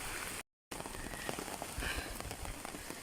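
Heavy rain pours down near a swollen creek during a storm, a dense continuous hiss of drops striking surfaces, close and steady apart from one short silent gap.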